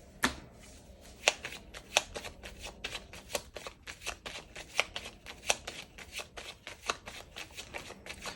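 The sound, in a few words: shuffling a deck of 32 cards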